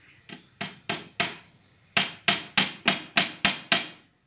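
Small 3/4-inch nails are hammered into a wooden chicken coop: four spaced blows, a pause, then a quicker run of seven sharp, close knocks.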